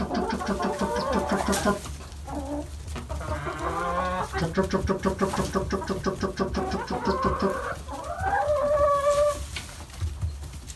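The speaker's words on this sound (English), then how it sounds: "They're really a bunch of chickens." Backyard hens kept as a small flock cluck and chatter continuously, several birds close by with rising, drawn-out calls layered over steady low murmuring throughout.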